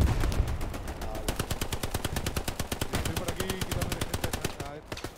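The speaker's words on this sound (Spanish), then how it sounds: "me disparan" Rapid automatic gunfire in the World War II shooter Hell Let Loose during a night battle, a long steady stream of sharp shots with a few heavier blasts at the start, under faint background talk.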